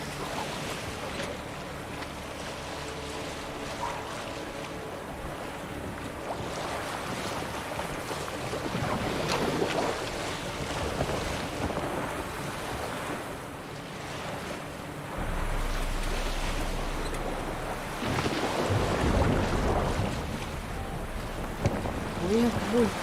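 A boat moving on water in The Witcher 3 video game, giving a steady, close wash of bubbling and sloshing water with surging swells and no talk over it.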